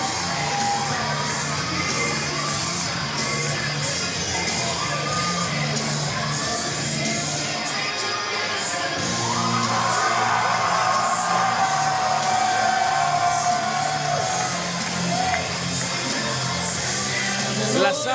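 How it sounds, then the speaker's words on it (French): Fight arena crowd cheering wildly, a loud sustained roar of shouts and whoops that swells to a higher pitch about halfway through and keeps going. "La foule est en délire."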